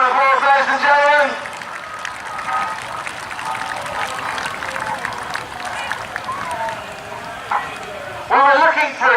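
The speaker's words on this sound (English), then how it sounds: "Big round of applause, ladies and gentlemen." An audience at a steam rally breaks into applause, a burst of clapping mixed with someone speaking over a loudspeaker and crowd noise.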